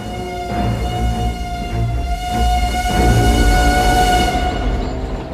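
A train journeys through Transylvania in the 1992 Dracula film, heard as a loud, steady rumble of rolling wagons under sustained horn-like tones, continuous for several seconds.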